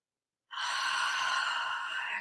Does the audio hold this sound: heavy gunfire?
no